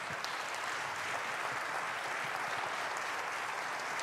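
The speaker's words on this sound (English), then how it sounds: "Let's give that round of applause to these candidates." Candidate forum audience applauding the candidates, a steady, even patter of clapping held at moderate level from start to finish.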